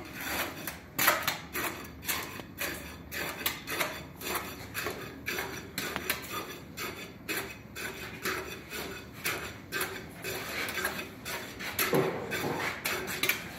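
A steel tamping rod strikes repeatedly into a layer of fresh concrete in a cylinder mold, about two dozen rhythmic rubbing thuds at a steady pace, close and without talk.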